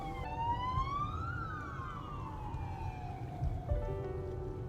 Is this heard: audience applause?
no